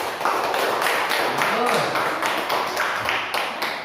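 Students in a classroom clap their hands together in a quick, steady patter of applause that runs through the whole moment, with a teacher's voice speaking briefly over it.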